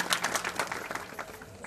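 Brief patter of audience hands clapping at a Marathi kirtan, a quick run of sharp, fairly close claps that thins out toward the end.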